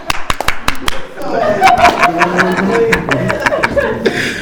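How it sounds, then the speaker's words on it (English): Scattered claps from a small group sound close up, mixed with chuckles and talk, after a host tells the room to applaud a man who gushed about his wife. "Give him a round of applause."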